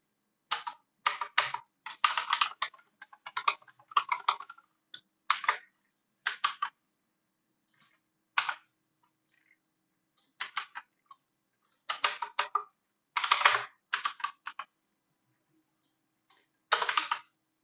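Someone types on a computer keyboard in quick bursts of close, crisp key clicks, with short silent pauses between runs of keystrokes.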